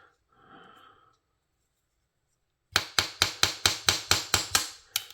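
A pin is tapped out of a TWOSUN TS457 pocket knife with about ten quick, sharp metallic taps in a steady rhythm, close and clear. A faint breathy noise comes before the taps.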